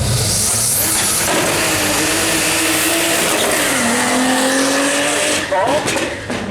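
A race car with a 2.9 Cosworth engine makes a speed trial run at the Brighton Speed Trials, roaring loudly and close as the engine revs and the pitch climbs through the gears.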